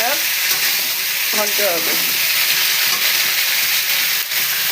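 Vegetables frying in a hot pan give a loud, close, continuous sizzle with crackles and stirring scrapes, and a brief spoken phrase comes over it.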